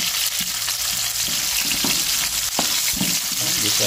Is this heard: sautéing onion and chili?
yes